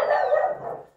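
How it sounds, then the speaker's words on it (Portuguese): One short bark rings out from a dog at a house in the countryside, loud and near, fading quickly with no talking over it. "ô Pipi, para de latir, Pipi."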